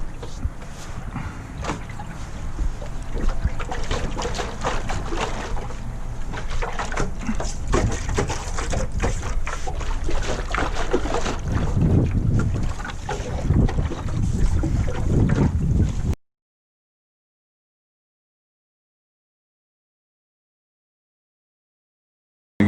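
Water sloshing inside a rust-stained steel fuel tank from a 1985 Honda VT700C motorcycle, holding about two gallons and shaken by hand, a steady churning swash for about sixteen seconds before going silent.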